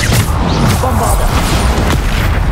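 A Bombarda blasting spell explodes in the wizarding game Hogwarts Legacy, a loud, dense, booming rumble filling the scene continuously amid battle noise, with a voice calling out over it.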